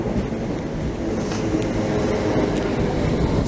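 A train pulls in at a British railway station platform with a low, steady rumble, a continuous rolling roar close by for a few seconds and no talk over it.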